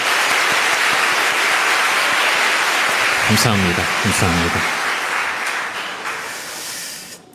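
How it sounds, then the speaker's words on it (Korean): A church congregation applauds its Sunday school teachers, a dense wash of clapping that fills the room and slowly fades, with a voice speaking briefly over it partway through. "우리 수고하시는 교사들에게 좀 격려의 박수를 좀 보내드릴까요?"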